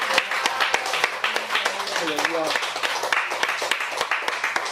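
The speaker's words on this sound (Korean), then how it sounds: "우리 하나님께 큰 박수로 영광 올려드리겠습니다" A church congregation claps in praise, quick dense applause from many hands throughout, with a voice speaking and calling out over the clapping.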